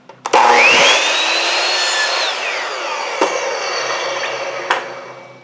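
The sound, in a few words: saw cutting wood pieces for bird feeder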